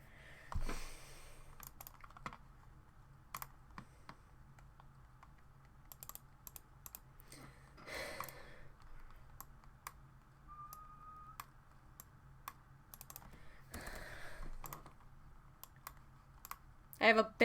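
Irregular bursts of computer keyboard typing, close and crisp, with clusters of keystrokes separated by pauses and a few louder clacks over a quiet background hum.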